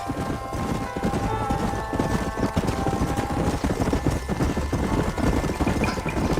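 Horses' hooves clip-clop in a quick, continuous rhythm as riders travel together in the Western video game Red Dead Redemption, loud and close, with game music or ambience beneath and no speech.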